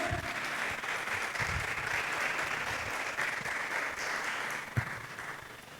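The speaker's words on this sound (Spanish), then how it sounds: "Dale un fuerte aplauso al Señor si tú lo crees." A church congregation bursts into sustained, dense applause during a worship service, many hands clapping together in a steady roar that carries on for several seconds before easing off.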